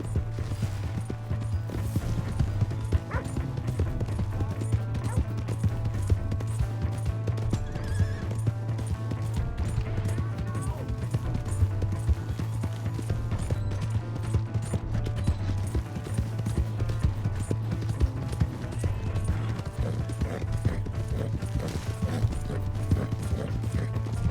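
Horse hooves clip-clop in a fast, steady gallop in the video game Red Dead Redemption 2, with occasional horse whinnies over a constant low rumble.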